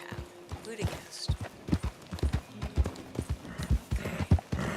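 Horses in Red Dead Online clip-clop in a steady, close, uneven run of hoofbeats, with occasional talk and background game sounds.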